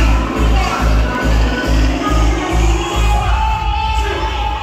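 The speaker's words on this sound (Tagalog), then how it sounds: "Bigyan po natin ng isang masigawang palakpakan at sigawan" Crowd at a birthday event breaking into applause and shouting, with a loud, steady roar of voices over a pulsing low music beat that thins out toward the end.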